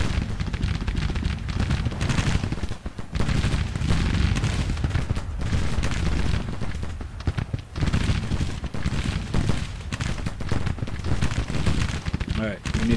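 Massed musket volleys in Grand Tactician: The Civil War crackle and thud continuously in dense, overlapping bursts, a steady loud battle roar with a voice talking over it.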